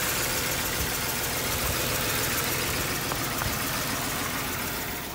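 A car engine suspected of a blown head gasket idles continuously in the foreground, a rough, steady churn with faint irregular knocks and no speech over it.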